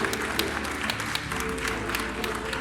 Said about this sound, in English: Round of applause for Venom, guys.